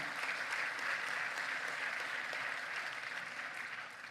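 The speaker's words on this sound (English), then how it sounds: "we applaud you, as we hereby do" Steady applause fills a hall during the announcement of South Africa's national election results, many hands clapping continuously and fairly faintly for about four seconds, easing slightly at the end.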